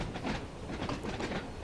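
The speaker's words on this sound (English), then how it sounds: "The Class 484s, on the other hand, they're not bad. They're still underground trains" A Class 484 train, an ex-underground stock unit on the Isle of Wight shuttle line, rumbles steadily along the rails with a faint clickety-clack, sounding close and continuous, with no talking.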